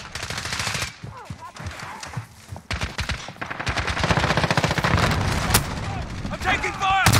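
Rapid automatic gunfire and single shots crackle in a Call of Duty Modern Warfare 2019 match, with dense bursts, a few heavier booms and game voices speaking over the shooting.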